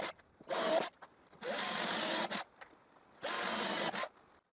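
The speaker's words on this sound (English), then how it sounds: "First I use a 6 mm drill bit to drill 4 holes in the edge of the narrow" A power drill fitted with a 6 mm bit boring holes into the edge of narrow pallet strips, three loud bursts of close whirring with short quiet gaps between them.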